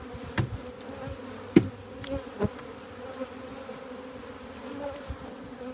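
Honeybees buzz steadily around an open hive at a bee company's apiary, a continuous moderate drone with a few soft knocks and clunks of frames and equipment mixed in.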